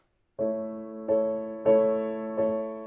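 Four slow, sustained piano chords, each struck softly and left to ring and fade before the next, alone with no talking.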